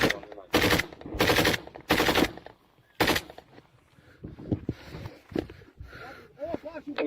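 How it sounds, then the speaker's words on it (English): Machine gun fire in combat footage from the war in Ukraine: three long, loud sustained bursts followed by a single burst, then scattered fainter shots and thuds, with voices talking over the quieter stretch. "We now hear this guy laying down the fire."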